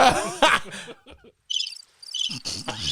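Cricket-chirp sound effect played on a podcast: short bursts of high, bright chirping that come in broken patches between louder clattery noises and gaps of near silence.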